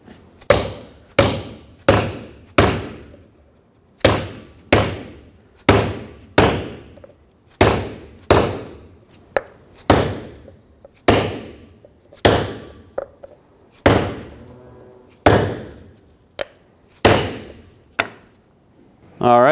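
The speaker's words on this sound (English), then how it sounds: "I'm going to use a rubber mallet and drive this down all the way." A rubber mallet pounds a wood block to drive a wheel bearing seal into a 2011-2016 Ford F-350 rear hub, about twenty sharp, close thuds in a steady, slightly uneven rhythm with short pauses between strikes.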